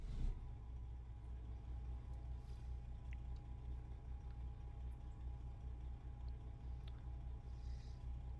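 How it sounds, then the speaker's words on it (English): Kenworth K100E truck engine running in a trucking video game, a low, steady rumble held at an even level throughout, fairly quiet, with no talk. "this might be a loud truck."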